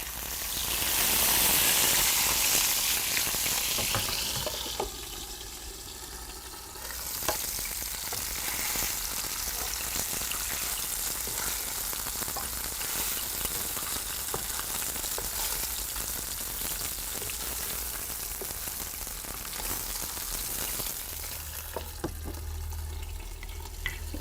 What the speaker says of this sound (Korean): 이게 지글지글 소리가 아까 장난 아니어가지고